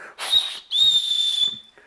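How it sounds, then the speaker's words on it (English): A shrill survival whistle blown twice, a short blast followed by a longer sustained one, close and loud with breathy hiss. "But this is a whistle."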